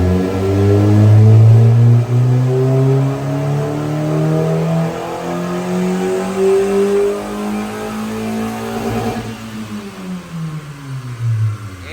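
Tuned car with the air filter removed revs hard on a dynamometer, engine tone climbing through rising harmonic sweeps before dropping and climbing again, loud and close with no voices.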